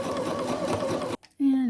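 A sewing machine runs steadily, stitching thin fabric binding on a dress with a flounce, a close continuous whir that stops briefly and then starts again.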